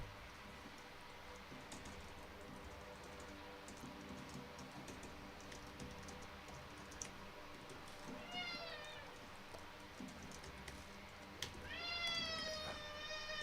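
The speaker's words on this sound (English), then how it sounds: "let me show you my cats" A pet cat meows a few times in a room, short rising cries around the middle and end, fairly close, over steady background noise with keyboard-like clicks.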